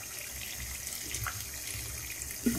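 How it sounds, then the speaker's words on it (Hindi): Half a litre of water is poured into a pot of chicken for Kashmiri biryani, a steady splashing pour running the whole time without talk. "1/2 लीटर हम इसमें पानी ऐड करेंगे"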